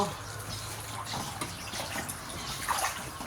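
Steady splashing and sloshing of water in a pool as people wade around eating mango, a continuous close wash of liquid with no clear voices.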